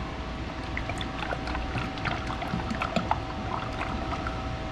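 A steady gurgling pour of motor oil into a Chevrolet Silverado's 5.3-liter LS engine, continuous and moderately close, with small glugs and splashes running throughout.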